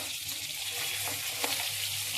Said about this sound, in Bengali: এই যে ডিমগুলো লাল লাল করে ভাজা হয়ে যাচ্ছে।